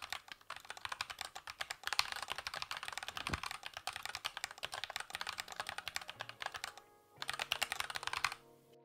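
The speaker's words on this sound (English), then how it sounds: "Here's another sound test with closed mic to get the best feel of this board sound." Rapid, steady typing on a Dygma Defy split keyboard recorded with a close microphone, a dense run of crisp key clacks that pauses briefly near the end before resuming.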